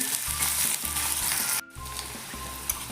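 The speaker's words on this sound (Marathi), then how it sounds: "कांदा घालायचा आहे आणि कांदा जास्त भाजून घ्यायचा नाही फक्त मऊ झाला पाहिजे" Chopped onion frying in hot oil with mustard seeds and curry leaves for pithla: a steady, close sizzle with a brief dip partway through, then the frying continues.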